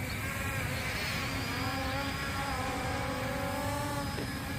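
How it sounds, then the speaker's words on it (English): An XK X251 Whirlwind quadcopter flies outdoors, its steady, buzzing rotor whine shifting slightly in pitch as the throttle changes, heard continuously and fairly close. "So it's a very stable quadcopter."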